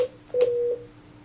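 A desk phone keypad on an 8900-9900 series handset plays two short dialing tones, a brief beep and then a longer one, entering an extension number. The tones are clear and close with no talk.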